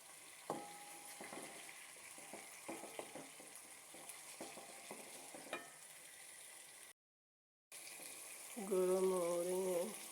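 Potatoes for a saalan curry are stirred in a pan with a spoon, giving soft scattered clinks and scraping over a low sizzle. After a brief dropout, a loud steady tonal hum takes over near the end.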